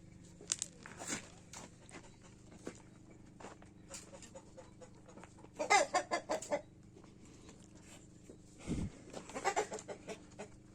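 Chickens and roosters cluck in scattered bursts on a farm, a few louder flurries standing out over a steady low hum, with no one talking.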